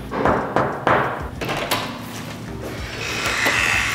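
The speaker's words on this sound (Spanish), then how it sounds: "golpeamos la puerta." Several sharp knocks on an apartment door, a few distinct raps in the first second followed by duller thuds and rustling, fairly close and loud with no speech.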